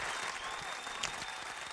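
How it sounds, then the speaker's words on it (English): An audience applauds at an interview, a brief, steady wash of clapping heard up close with no talk over it. "Give a round of applause for that."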